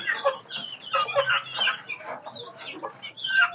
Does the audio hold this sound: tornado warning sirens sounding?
no